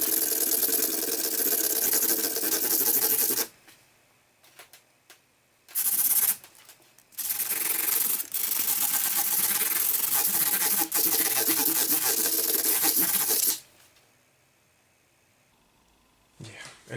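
Frets on an Epiphone SG G-400 guitar being polished, loud close rubbing and rasping strokes in long bursts separated by brief pauses, with a few short scrubbing passes near the end.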